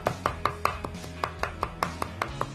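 A knife taps steadily on a cutting board, finely chopping ingredients for a Lanna-style northern Thai curry of khae flowers and frog, about a dozen crisp even strokes at moderate distance with no talk.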